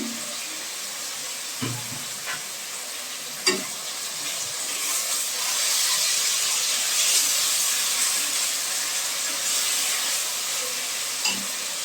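Drumstick vegetables fry and get stirred in a pan with spice paste, giving a soft, steady sizzle and hiss. A few sharp clinks of the utensil punctuate the low, even cooking noise.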